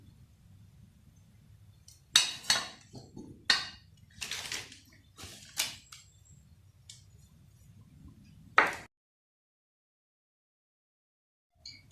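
Cut potatoes are tossed with a spoonful of starch in a bowl, giving a run of soft scrapes and light clinks for several seconds before everything goes quiet.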